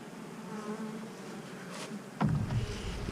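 Honeybees swarm around a beehive during routine beekeeping work, giving a steady close buzzing drone that swells into a louder, denser burst near the end, with no voices.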